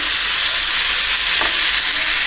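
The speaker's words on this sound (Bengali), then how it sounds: "ভাজিতে করলাটা দিয়ে দিচ্ছি, তারপরে পরে দেবো ডিম।" Sliced bitter gourd fries in hot oil in a pan, giving a loud, continuous hiss and crackle that stays steady throughout with no voices.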